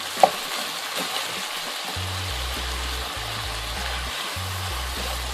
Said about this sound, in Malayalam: നന്നായിട്ടൊന്ന് ഇളക്കി ചേർക്കാം.